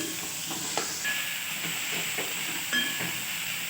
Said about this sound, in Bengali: রসুন, আদা, লঙ্কার কুচি দিয়ে দিচ্ছি। এগুলো খুব ভালোভাবে আমি ভেজে নেব।